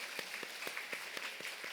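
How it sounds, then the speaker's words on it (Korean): A church congregation claps during a Sunday worship service, a faint, rapid patter of hands heard from a distance for under two seconds. "재밌는 영상 만들어준 우리 은광 방송에서 박수로 하나님께 영광 돌리겠습니다"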